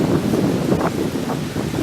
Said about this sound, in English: We're getting a bit windy now, so you might not be able to hear me.